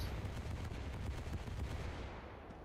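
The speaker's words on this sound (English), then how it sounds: "As you see, a wall of damn anti-aircraft shells." Warships in War Thunder put up a dense barrage of anti-aircraft fire, a continuous rumbling roar of rapid overlapping shots, distant and fairly faint, easing slightly toward the end with no talking.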